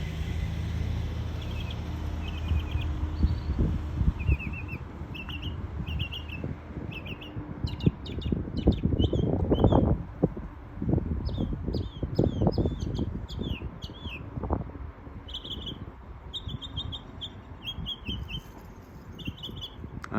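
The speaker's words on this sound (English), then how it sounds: "They just don't run out of songs. Bye, Mockingbird." A mockingbird sings a long run of varied chirps and whistled phrases, repeating bursts at a moderate distance, while low rumbling traffic noise swells and fades underneath.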